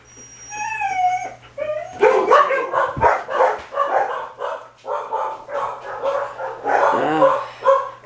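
Dogs inside a house react to workers moving in the backyard with close, loud bursts of barking, high whines and yips that rise and fall in uneven waves.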